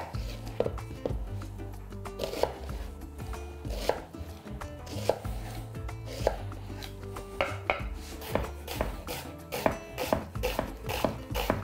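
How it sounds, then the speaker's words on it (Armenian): Two medium onions are chopped finely on a board, giving a steady run of crisp knife knocks at an even, brisk rhythm, close and clear over a low background hum. "երկու միջին չափի գլուխ սոխը մանր կտրատում ենք։"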